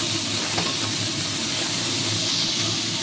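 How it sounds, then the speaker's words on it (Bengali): Banana flower (mocha) frying in a pan with onions for a Bengali prawn dish, giving a loud, even, unbroken hiss of sizzling oil up close, with no voices. "এই দেখুন মোচাটা খুব সুন্দর করে এবার ভেজে নেবো।"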